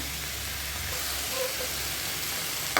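Banana stem chutney ingredients sauté in a hot pan, a continuous soft sizzle and hiss held steadily throughout, close by and alone, with a brief knock at the end.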